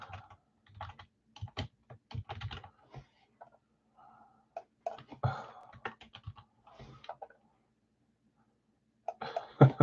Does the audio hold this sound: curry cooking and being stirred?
no